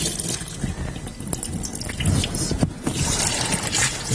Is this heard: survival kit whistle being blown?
no